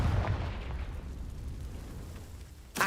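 A Confringo fire spell detonates in Hogwarts Legacy, a low booming blast at the start that rumbles off into a quieter tail, with another sharp burst at the very end.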